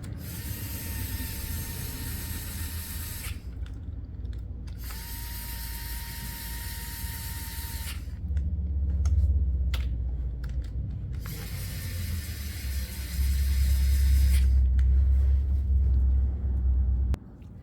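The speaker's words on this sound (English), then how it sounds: "I'm going to tighten those number 10 bolts for the coils." Ratchet tightening the number 10 coil bolts on a 2013 Chevy Equinox engine, heard as three bursts of rapid, bright clicking separated by short pauses, with scattered clanks and handling noise and a low rumble in between.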